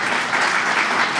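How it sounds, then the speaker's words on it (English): An audience gives the governor a round of applause, a brief, loud, steady burst of dense clapping with no voices over it. "Big round of applause to the governor there."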